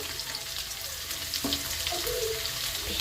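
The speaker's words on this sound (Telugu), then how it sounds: "కొంచెం అలా ఫ్రై అయితే చాలు శనగపప్పు" Chana dal fries in a pan for an eggplant curry, giving a continuous, fairly loud sizzle with a faint clink partway through.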